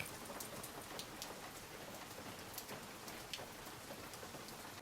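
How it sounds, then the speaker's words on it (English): Torrential rain on a hike in Snowdonia, a dense, steady hiss of heavy downpour with scattered louder drops spattering close by, continuous throughout with no voices. "the weather turned wild. Torrential rain"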